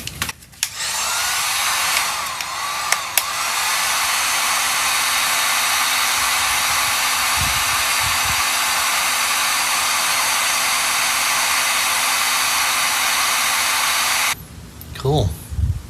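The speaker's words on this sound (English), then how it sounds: "we got the new sending unit and pump hooked up" A newly installed fuel pump and sending unit whirs steadily inside a 1980s Pontiac fuel tank, a close, loud continuous electric hum running about fourteen seconds before cutting off, with a few clicks and handling noises at the start and end.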